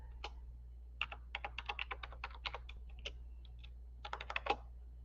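Keys clatter on a computer keyboard in short irregular bursts, close and fairly quiet, with a low steady hum underneath and pauses between runs of typing.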